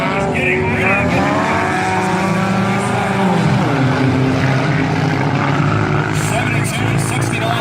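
Four-cylinder race cars, a Pontiac among them, roar around a dirt oval at Valley Raceway, several engines close and loud, their droning pitches rising and falling steadily throughout, with a voice faintly audible underneath.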